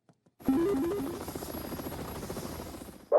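Cartoon helicopter from Family Guy, the Mickey copter, starting up with a whirring engine and rising tonal whine that continues steadily for about three seconds, fairly loud and close, with no talk over it.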